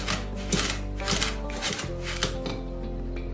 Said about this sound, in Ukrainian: я взяла півтори склянки цукру, 6 жовтків, ваніль за смаком, і зараз буду все це діло перетирати